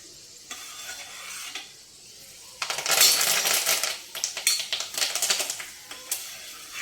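Curry leaves dropped into hot oil for a Telugu pesarapappu pindi pachadi, a sudden loud crackling spatter that keeps popping and sizzling up close after a quieter start.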